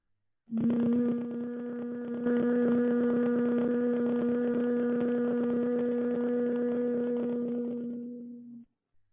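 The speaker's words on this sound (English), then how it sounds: "take a deep breath in and chant the M as in Mary sound" A single steady hummed "mmm" chant during yoga, held for about eight seconds, even and smooth, then fading out.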